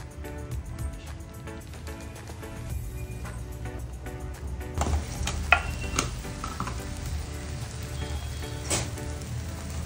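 Masala gravy for a black pea bhaji cooking in oil in a pan, a soft steady sizzle and bubbling with occasional stirring scrapes and clinks, close and moderate in level.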